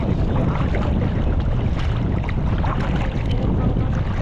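Strong wind roars steadily from a boat at sea during an afternoon of fishing and shellfish hunting, a dense, constant rush of noise buffeting the microphone throughout with no pauses.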